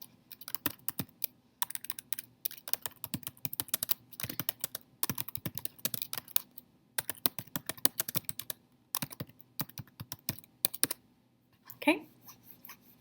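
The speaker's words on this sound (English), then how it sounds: "Some of you guys are typing up here." Several people clatter on computer keyboards in a classroom, fast irregular bursts of key taps with short pauses between them, moderately close, and a brief murmur of voice near the end.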